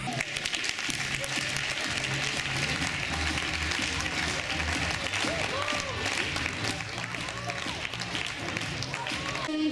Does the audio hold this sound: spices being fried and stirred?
no